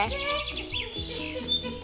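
A young child imitates bird calls with high, chirpy whistled sweeps, close and fairly loud, continuous through the moment with no other talk.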